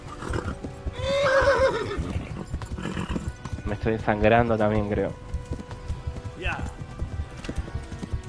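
A horse neighs loudly in the video game Kingdom Come Deliverance while rhythmic hoofbeats continue underneath, a second whinny following shortly after, with someone talking over the sounds.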